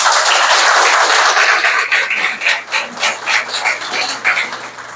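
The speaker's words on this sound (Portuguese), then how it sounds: "Dr. Arnaldo Duarte Lourenço, uma salva de palmas." Audience applause for a writer at a writers' conversation event in Brazil: a dense, steady wash of clapping that starts full and then thins into uneven swells before tapering off.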